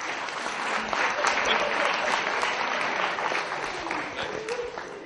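Conference audience applauding after a talk on enterprise wireless hacking, a dense, steady wash of many hands clapping that holds loud and even for the full stretch, with faint voices mixed underneath.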